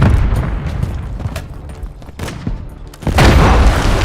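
Grenade explosions in a shooter video game, several heavy booming blasts and bursts in quick succession, loud and close, the last one swelling into a sustained rumble.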